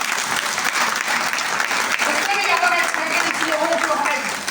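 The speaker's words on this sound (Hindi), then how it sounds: "एक बार तालियों से मोहर लगा सकते हैं।" A dense, loud crowd applause fills an auditorium at a direct selling business seminar, sustained evenly from start to finish without letup.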